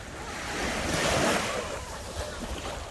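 Ocean surf washes steadily onto a beach in Adelaide, a broad rushing roar swelling and easing, with wind buffeting the microphone throughout.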